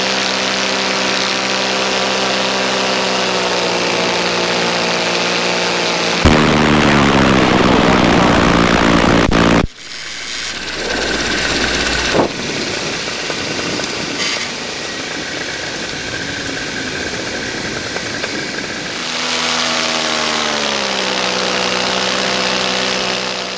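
A paramotor engine drones loudly and continuously in flight over Napa near hot air balloons, a buzzing propeller roar mixed with wind rush that shifts in pitch and texture several times.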